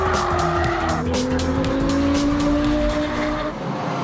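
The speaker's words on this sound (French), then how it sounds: "son V10 et ses 560 chevaux sonnent comme une pure provocation" A Lexus LFA with a 560-horsepower V10 runs at speed on the Nürburgring Nordschleife. The engine wails loudly with a rising and shifting pitch, close and dominant throughout, then fades slightly at the end.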